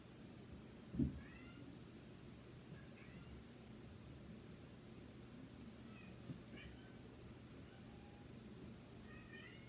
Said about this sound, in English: If you hear my kitty crying